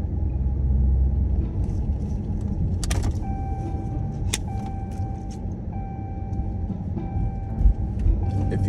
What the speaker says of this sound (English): If you don't say nothing, I'm gonna keep driving.